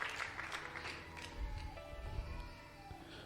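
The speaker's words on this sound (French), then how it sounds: "Acclame pour le Saint-Esprit" Church congregation applauding during a French-language worship service, a steady wash of clapping at moderate volume with a faint crowd murmur beneath.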